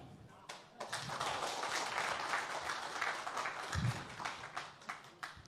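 Crowd applause at a political rally in Bihar, a sustained spread of clapping that swells after a brief pause, with low thumps and a voice briefly rising in the middle.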